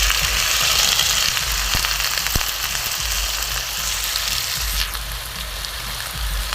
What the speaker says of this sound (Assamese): এতিয়া মই ইয়াত দিম ফুলকবি আৰু আলুখিনি